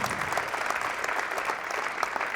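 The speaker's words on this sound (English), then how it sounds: "It's amazing that people clap for that." Steady applause from an audience at a live comedy podcast show in Pittsburgh, a dense, even wash of clapping that holds at moderate level throughout with no talking over it.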